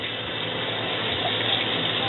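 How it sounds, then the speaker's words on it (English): Beef broth is poured from a container into a cooking pot, a steady close gushing splash of liquid that continues evenly throughout. "I'm just going to pour the entire container of beef broth straight into here"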